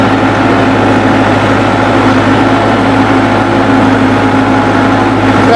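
A Massey Ferguson MF385 tractor engine runs at 1500 RPM, a loud, constant, low diesel drone that stays close and unchanging throughout.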